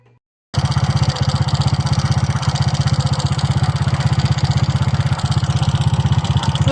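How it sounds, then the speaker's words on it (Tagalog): After a brief silence, a Honda Click 125 scooter engine fitted with a new block, stage 2 cams and valves starts running loud and close, a steady rapid putter that holds even throughout. "Tingnan natin okay. uli ang tunog ng kanyang makina."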